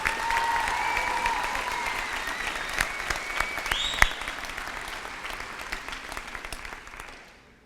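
A graduation audience at the 2015 ECHS and Roberts Teen Parent ceremony gives a round of applause for two student speakers: steady, dense clapping from a large crowd, fairly loud throughout, with a few sharper claps before it fades out at the end.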